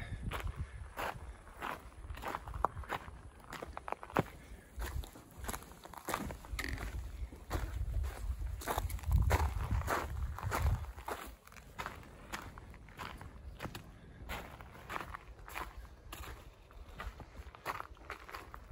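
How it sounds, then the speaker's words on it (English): Hikers' footsteps crunch along a quiet stretch of the John Muir Trail in the Sierra, a steady rhythm of close, moderately loud steps that keeps going throughout, with no wind or water in the background. "You can actually hear our footsteps right now."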